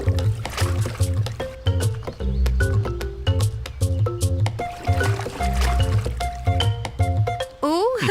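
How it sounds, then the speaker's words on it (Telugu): A cartoon otter in a rainy-season scene makes a rapid string of squeaky, chattering and grunting vocal calls, loud and close, ending on a rising whistle-like sweep. "ఓ, అది ఓటర్ అంటే నీటి కుక్క"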